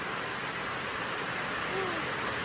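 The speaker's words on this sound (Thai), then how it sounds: "ฝนสาดเข้ามาฮอดพี่น้องฮอดเสื้อผ้าบ่อยพี่" Heavy rain falling at night and blowing in under a shelter, a dense, steady hiss of downpour that holds evenly loud throughout with no break.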